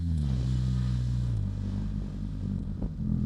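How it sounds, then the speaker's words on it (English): A BMW R 1300 GS Adventure motorcycle with automatic shifting drops through gears while slowing, its close, steady engine rumble stepping down in pitch at each downshift, with a brief clatter near the end. "Now I'm downshifting."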